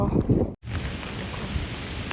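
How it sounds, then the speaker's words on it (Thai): Steady rain falls outdoors, a dense, even hiss that continues after a brief voice and a short moment of silence near the start. "ฝนตก"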